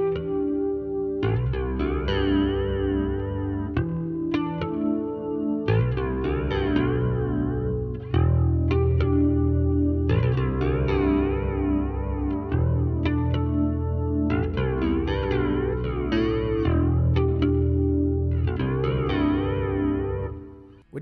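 Bass guitar played through a Sonicake Matribox II multi-effects pedal, a steady run of notes with chorus, distortion and echo coloring, loud and continuous with no talking.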